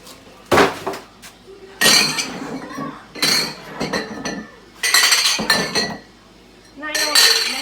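Glass canning jars clinking and knocking together while being washed in hot soapy water, several bursts of clatter with pauses between and a faint voice in the background.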